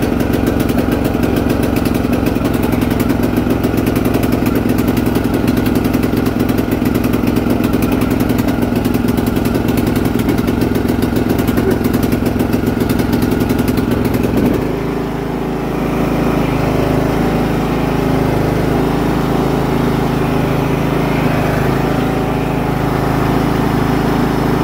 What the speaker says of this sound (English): You won't hear me while I do the lawnmower.